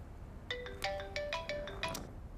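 A mobile phone ringtone plays for an incoming call, a bright melodic electronic tune of short repeating notes, clear and close in a quiet room.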